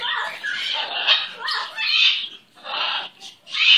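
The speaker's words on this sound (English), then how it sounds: "Oh, what a good bird." A pet bird squawks in a run of loud, harsh, raspy calls with short gaps between them, close to the listener and with no talk over them.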